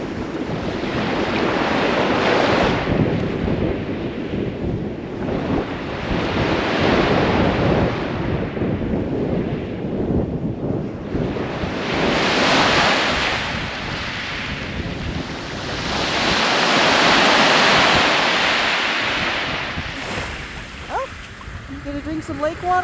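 Waves washing steadily onto a sandy lake beach, the surf swelling and receding in broad surges while strong wind buffets the microphone.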